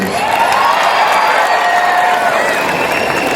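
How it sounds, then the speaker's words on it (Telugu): A large audience at a Grace Cancer Foundation event applauds and cheers steadily, a dense, even wash of clapping and crowd noise with a few whoops that holds for several seconds. "చిన్నబాబు గారికి ఒక హ్యూజ్ రౌండ్ ఆఫ్ అప్లాజ్"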